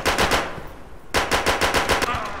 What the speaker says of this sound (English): this gun and its little pop sound